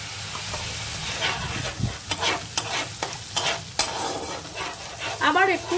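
A salt and turmeric paste fries in a pan for a singi catfish and bitter gourd curry, a soft sizzle broken by irregular scraping stirs of a spatula, close and unaccompanied by speech.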